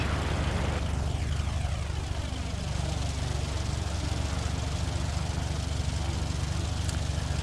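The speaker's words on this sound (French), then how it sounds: "il y a encore un avion autour de piste" Airplane circling the runway at night, a continuous loud engine drone with a rapid pulsing texture, steady throughout with no voices.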